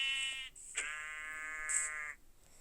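A goat in a modded Minecraft game gives two drawn-out, nasal electronic bleats, the second longer than the first, clean and up close with no talking.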